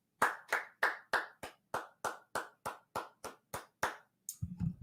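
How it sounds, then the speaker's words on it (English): A single person clapping about a dozen times at a steady, even rhythm, close and crisp, then a brief rustle at the end. "Let's give a round of applause for Corbin Burnes."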